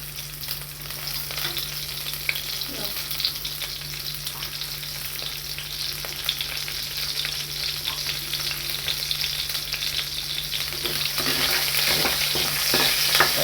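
Mustard greens with red-tinged leaves fry in hot oil alongside chopped tomato and dried red chili, producing a long, steady sizzle with occasional crackles and stirring scrapes that grow slightly louder toward the end.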